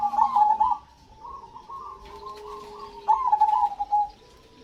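A caged perkutut, or zebra dove, coos nearby in clear, rhythmic trilled phrases, soft and steady. A louder run of coos comes near the end, and there are faint background noises.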